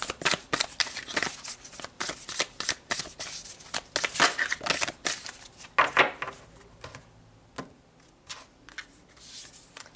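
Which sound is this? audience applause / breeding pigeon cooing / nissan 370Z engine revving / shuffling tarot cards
shuffling tarot cards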